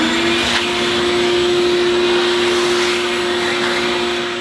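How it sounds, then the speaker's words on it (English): A vacuum cleaner runs at a steady, loud whine with a constant motor hum while cleaning up around a model train layout, holding unchanged throughout with no voices. "And of course, vacuum as you go."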